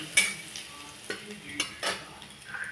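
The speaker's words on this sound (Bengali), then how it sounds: "দিয়ে আবার আমি একটুখানি নাড়াচাড়া করে নেব, যাতে পুড়ে না যায়।" Crushed garlic frying in a pan while being stirred, giving a soft steady sizzle broken by a few brief scraping strokes of the spoon, close and fairly quiet with no talking.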